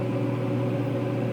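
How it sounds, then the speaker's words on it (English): Kitchen oven fan running steadily while frybread fries in shortening and olive oil, a constant whirring hum with a low tonal drone, unchanging and fairly loud with no talk. "I do have my oven fan on just so it doesn't get too smoky."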